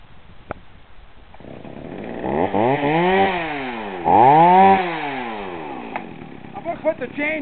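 A chainsaw cuts through a tree branch, first a back cut and then a front cut, its engine rising from a low idle into two loud, close revving bursts before easing off.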